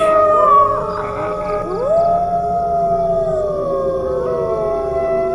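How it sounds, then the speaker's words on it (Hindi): Jackals howl in overlapping, wavering long cries, several voices rising and falling together, loud and close with a faint background hum beneath. "उसे लगा जैसे सियार कहीं चिल्ला रहे थे।"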